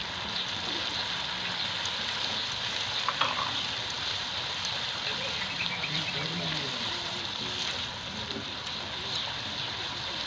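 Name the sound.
beef karahi frying with green chilies in a pan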